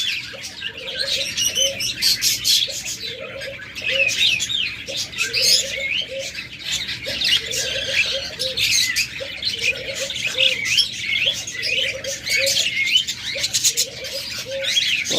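Caged Japanese pet birds sold in pairs, probably budgerigars, cockatiels or doves, chirp and twitter in a busy overlapping chorus, with repeated short lower calls pulsing steadily underneath, close and lively throughout.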